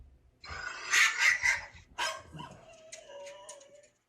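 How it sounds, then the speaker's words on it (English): Feisty small dog giving a burst of sharp yappy barks, then a short growly yip and a thin high whimper trailing off, close and fairly loud with no talking over it. "That's a feisty dog."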